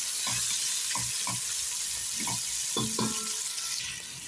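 Garlic and ginger sizzle steadily in hot oil in a pan, a constant bright hiss broken by soft knocks and scrapes of a stirring utensil.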